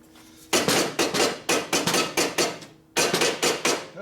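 A hammer strikes a part on a 1957 Harley panhead drag bike, a rapid run of about a dozen sharp metallic blows, loud and close, with one short pause midway.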